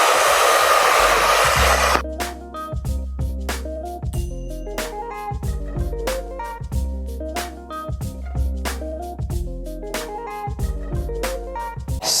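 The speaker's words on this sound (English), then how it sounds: "I'm going to take my hair dryer now and dry it clear." A hair dryer blows loudly and steadily on a wig for about two seconds before cutting off abruptly to rhythmic music with a regular beat.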